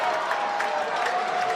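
A high school basketball crowd in a state tournament semifinal between Hendricken and Classical erupts after an outside basket, with loud, close cheering and applause that holds steady throughout.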